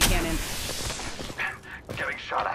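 Bursts of rapid Apex Legends gunfire and impacts crackle densely, with electronic effects sweeping in near the end.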